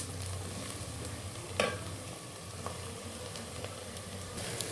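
Ginger garlic paste fries with onions, chilies, mustard, cumin and fenugreek seeds in a pan for fish curry, giving a steady low sizzle with occasional stirring scrapes, fairly quiet and without talk.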